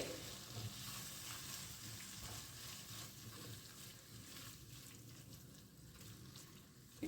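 Finely chopped tomatoes fry in a pan for paneer bhurji, giving a soft, steady sizzle that runs quietly and evenly throughout without any talk.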